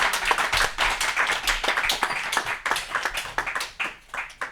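Church congregation applauding to acclaim the Lord, with dense, continuous clapping from many hands, loud and close, lasting the whole time.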